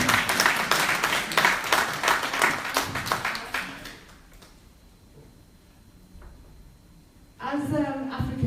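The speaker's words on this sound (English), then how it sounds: "please clap for my mother" Audience clapping at a political forum, a burst of many hands with a fairly even rhythm that fades out after about four seconds, followed by a near-silent stretch and then a voice speaking.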